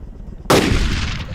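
An M230 20 mm helicopter cannon firing in ArmA 3, a sudden loud, dense roaring burst cutting in after a quiet moment, with another shot starting right at the end.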